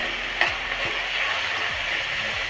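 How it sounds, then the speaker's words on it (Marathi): Chopped onion frying in a pan for soybean bhurji, giving a steady close sizzle with a few light stirring scrapes and one brief clink near the start. "कांद्याची जे आवाज येते आहे ते आवाज बंद झाले की म्हणजे समजायचं आपला कांदा छान भाजला गेला आहे"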